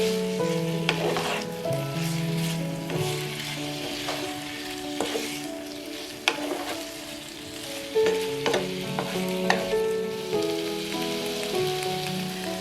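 Pork belly sizzles steadily in a hot pan as red chili powder goes in for a Vietnamese braise, with a spatula scraping and tossing at intervals, close and moderately loud with no talking.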